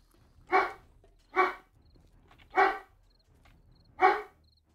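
A dog in the zombie survival game 7 Days to Die gives four evenly spaced, loud single barks about a second apart, with faint low rumble between them.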